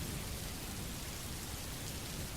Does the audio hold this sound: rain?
yes